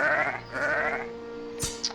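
A sheep mob in the video game Arcfall bleats twice in quick succession, moderately close, followed by a short sharp game effect and a faint steady tone.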